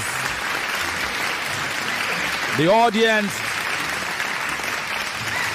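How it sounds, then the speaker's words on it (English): Continuous audience applause at a live debate tournament runs steadily from start to finish. A voice briefly speaks over the clapping partway through. "The applause is for everything and everyone."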